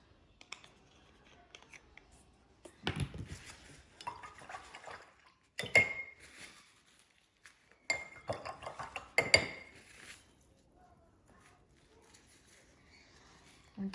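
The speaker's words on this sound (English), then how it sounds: "Now I'm going to really have to wash this brush because it's got lots of dark paint on it" A paintbrush loaded with dark paint is swished and tapped in a water jar, giving several bursts of splashing and clinking against glass separated by short pauses, fairly close, with no talk over it.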